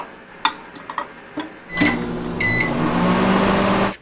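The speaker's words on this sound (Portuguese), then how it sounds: "colocar uns 30 segundos no micro-ondas" Microwave oven heating a lunch plate to melt cheese: several keypad beeps, then the door shuts and the oven starts with a steady loud hum, a bright chime in the middle.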